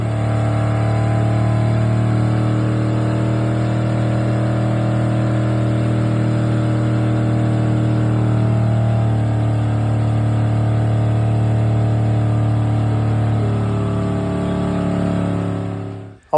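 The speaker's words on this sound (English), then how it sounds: "that burnout I did with it actually hurt the engine" Old hot rod with a worn-out motor doing a burnout, its engine holding a steady loud drone and revving hard without a break before cutting off abruptly at the end.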